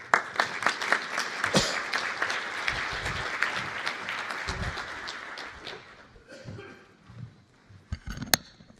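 Audience applause welcoming Ambassador Konings at an EU opening address, a dense sustained clapping that thins and fades toward the end with a few scattered claps.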